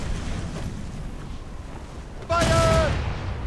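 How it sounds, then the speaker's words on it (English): Ship cannon fire in the video game Assassin's Creed Rogue, a sudden loud blast that jumps out of a windy, rumbling sea ambience and holds a sustained roar, with a tonal whistle riding on top. "Cannon ready! Fire!"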